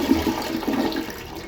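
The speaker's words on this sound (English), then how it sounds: "That's a Vortex flush toilet" A 2020 Uberhaus Vortex flush toilet flushing close by, a loud swirling gush of water that fills the short moment with no talking.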